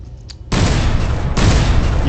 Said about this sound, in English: cinematic scene of this thing lighting up its main cannons, just firing one right off after another